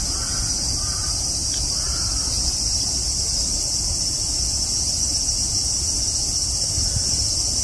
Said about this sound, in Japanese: セミの声を聞きながら。